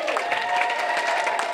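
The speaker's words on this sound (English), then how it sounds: "Everybody give her a round of applause." Wedding guests applaud the maid of honor during reception toasts, a steady wash of clapping from a crowd that holds evenly for a moment.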